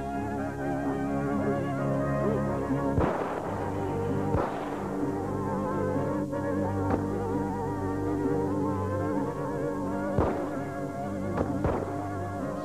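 Several sharp gunshots crack out at irregular intervals over a continuous droning buzz, two early and two later.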